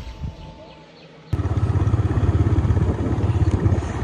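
A motorbike engine idles and then runs steadily on a village road, a low pulsing rumble that grows louder partway through and continues near and loud.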